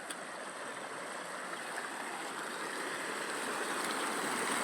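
River water rushes over stones near a dam, a constant broad roar that swells slightly toward the end, with no voices.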